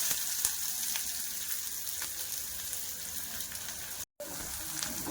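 Onions sizzle steadily in hot oil in a wok after cumin and mustard seeds have crackled, a constant close frying hiss with faint stirring and one brief dropout.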